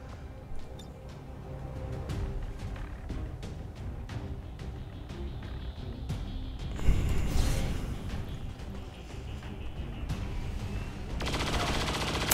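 Gunfire in the XCOM 2 game strikes a mech as a chain shot, with scattered clicks and bursts building to a loud volley near the middle and another burst at the end, amid low ambient game noise.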